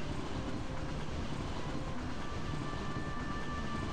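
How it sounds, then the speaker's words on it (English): A train in Twilight Town from Kingdom Hearts 2 Final Mix rumbles past with a continuous, dense rolling roar that holds at a steady loudness throughout. "Choo-choo train up there."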